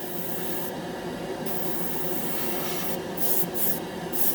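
An airbrush sprays orange Testors enamel paint onto bare plastic, a steady close hiss of air and atomized paint with slight surges in intensity.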